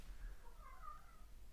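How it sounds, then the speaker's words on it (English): Cats meow faintly in the background, one drawn-out wavering call under a steady low rumble, distant and quiet with no talk. "Stupid cats."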